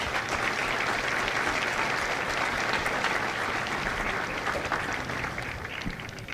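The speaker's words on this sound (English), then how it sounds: "Ladies and gentlemen, a round of applause for Congressman Peters." A large crowd at a Marine Corps recruit graduation at MCRD San Diego gives Congressman Peters a dense, steady roar of applause that holds strong throughout and tapers slightly at the end.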